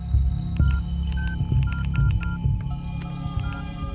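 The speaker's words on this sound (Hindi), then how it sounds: "मुझे घर पर एक अर्जेंट कॉल करना है" Telephone being dialed for an urgent call: a quick series of short electronic keypad beeps over a steady low hum, with no talk.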